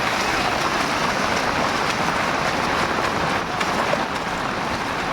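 Heavy monsoon rain in the Konkan region pours down in a dense, steady hiss of drops on surfaces, loud and continuous with no pauses.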